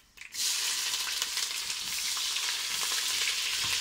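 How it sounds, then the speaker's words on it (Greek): Chopped onions sautéing in a hot pan as part of a Greek wine-braised chicken dish, a steady loud sizzle starting after a brief quiet moment and continuing evenly throughout with no talk. "Θα σοτάρουμε το κρεμμυδάκι."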